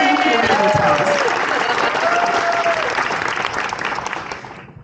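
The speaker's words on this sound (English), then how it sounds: "thank you for the applause" Loud applause and cheering from an audience at an evening awards event, a few whoops rising over the clapping before it thins and fades away toward the end.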